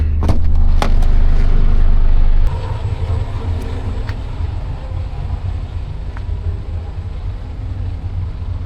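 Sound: truck driving out of a parking lot

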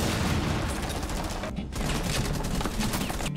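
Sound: gunshots in the video game Rainbow Six Siege

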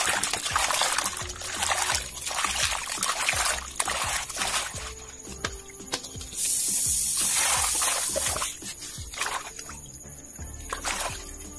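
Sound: washing cut fish with water

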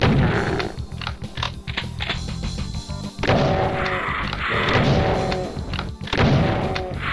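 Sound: gunfire and explosions in video game DOOM II

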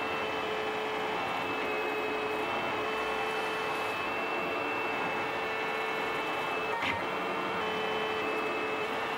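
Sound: 3D printer printing a half-size die

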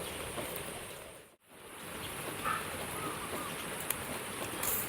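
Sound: rain falling, cool weather

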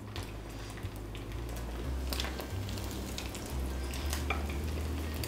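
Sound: meatballs frying in hot fat in a pan

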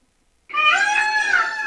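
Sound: person imitating a peacock call

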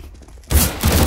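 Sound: gunfire in the video game Counter-Strike: Global Offensive

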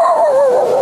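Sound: person imitating a dog

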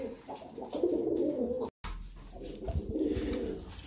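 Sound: pet birds, pigeons, outdoors in their enclosure

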